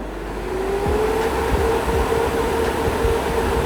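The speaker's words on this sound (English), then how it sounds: "The sound of a loud server room." Loud, steady whooshing of server fans spinning up, a whine gliding upward in pitch over a constant roar of air.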